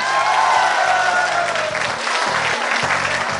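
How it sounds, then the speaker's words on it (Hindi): An audience at a college program in Noida claps together, a dense sustained applause filling the space for several seconds while music plays underneath. "ताली बजा दीजिए एक बार"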